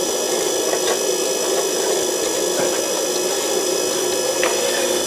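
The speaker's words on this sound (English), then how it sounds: "what I need to do now is sand" Sanding the tip of a small woodturning piece spinning at full speed on a lathe, a steady, fairly quiet whirring hiss of the machine with faint abrasive rubbing, continuous and alone without talk.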